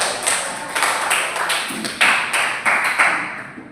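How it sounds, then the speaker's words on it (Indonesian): A group of children in a Quran recitation lesson claps their hands, a sustained, fairly close patter of uneven claps with a few louder accents, fading toward the end, with no talk over it. "Tepuk tangan ya."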